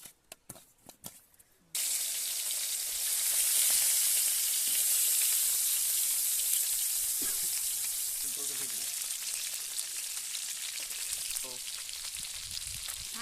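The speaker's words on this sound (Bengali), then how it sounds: "এই দেখো লবণ, হলুদ আর ঝাল দিয়ে আমি মাছটা ভেজে নেবো, হালকা করে ভাজবো" Fish coated with salt, turmeric and chili hits hot oil in a pan and bursts into a loud, steady sizzle after a few quiet knocks, with a voice briefly heard over the frying.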